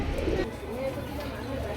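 A young pigeon gives soft, low coos at close range, faint and brief, with a little background noise around it.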